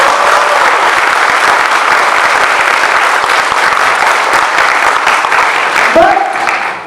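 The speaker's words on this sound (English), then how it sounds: "please give yourselves Batch 2019 a thunderous round of applause" Graduating chemistry students at a 2019 graduation ceremony burst into sustained, thunderous applause filling a large hall, with a crowd roaring dense and loud throughout before it tapers off at the end.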